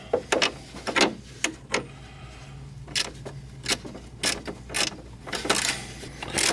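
Ratchet tightening 8 mm bolts on a height sensor bracket during an Air Lift Performance 3H suspension install, giving a series of short, sharp clicking bursts in irregular clusters, close by over a low steady hum.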